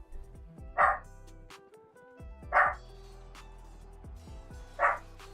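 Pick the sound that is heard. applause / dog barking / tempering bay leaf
dog barking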